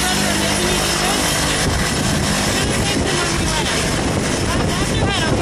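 A skydiving aircraft's engine drones loud and close, a constant roaring rumble with no letup, while people talk over it.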